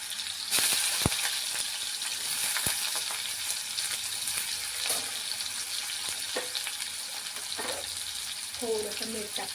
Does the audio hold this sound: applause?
no